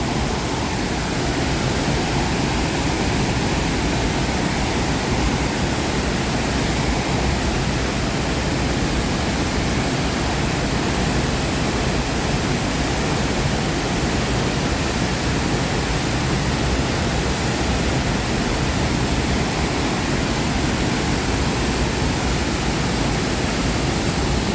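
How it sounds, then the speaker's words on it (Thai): Haew Suwat waterfall in Khao Yai National Park pours in a constant, heavy roar, loud and close, holding steady for the full length without any speech. "น้ำตกที่ไหลไป"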